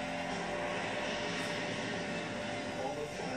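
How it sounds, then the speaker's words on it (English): Broad, sustained roar of an airplane flyover at a Super Bowl stadium, a steady engine rumble with a faint tonal hum that fills the whole moment at moderate level. "the plane comes over"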